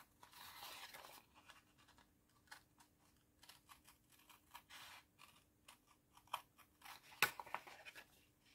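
Scissors cut paper for a handmade album in a string of quiet, close snips and rustles. Short irregular pauses fall between the cuts.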